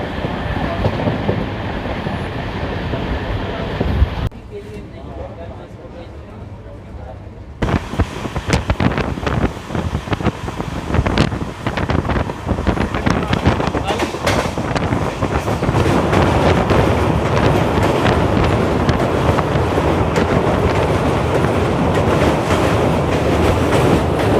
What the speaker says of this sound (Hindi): हमारी ट्रेन पहुंच रही है पीलीभीत जंक्शन, जहां से 4 अलग अलग डायरेक्शन में ट्रेन जाती हैं।